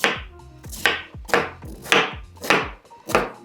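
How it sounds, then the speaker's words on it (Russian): A knife slices through crisp red cabbage on a cutting board, about six crunchy cuts in a steady rhythm, close and clear. "Нашинкуем нашу капусту."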